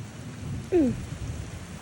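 Rain falls steadily outdoors as a soft, faint hiss, with one brief high-pitched chirp cutting through it midway.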